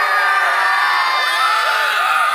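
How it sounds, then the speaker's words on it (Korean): A concert audience at a live performance roars with sustained cheering, whooping and shouting, loud and continuous throughout with no pauses. "더 힘찬 함성 부탁드리겠습니다."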